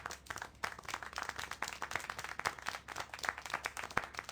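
Steady clapping heard in the video game Syberia The World Before, a quick run of sharp, fairly close hand claps with a slightly uneven rhythm, fairly quiet and with no talk over it.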